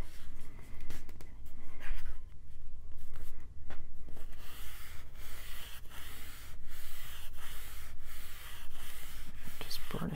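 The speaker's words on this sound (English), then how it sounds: "Just burnish that down with my dry baby wipe." A paper piece glued onto another in a Christmas mini album is burnished down with a dry baby wipe, giving repeated close rubbing and scraping strokes in uneven bursts, with no speech.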